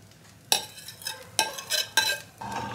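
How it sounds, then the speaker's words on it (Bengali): Cooked rice stirred together with masala spices in a pan, with several distinct scraping, mixing strokes arriving in uneven bursts against a quiet background; no one speaks. "আমি ভাতের সাথে খুব ভালো করে এটা মিশিয়ে নেব মশলা দিয়ে"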